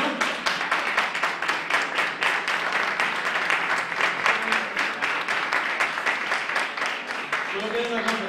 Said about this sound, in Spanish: Un aplauso, por lo menos.